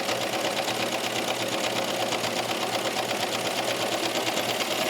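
A home sewing machine stitches off the end of a seam on a V-neck knit top, its rapid even whir and needle chatter running steadily and close throughout with no talk.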